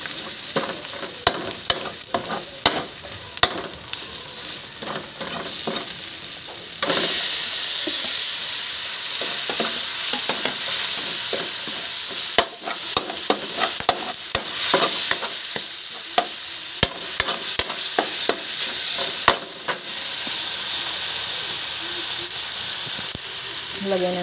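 Bottle gourd (upo) with tomato sizzles steadily in a frying pan, with scattered scrapes and clacks of stirring throughout a long stretch of close, even frying.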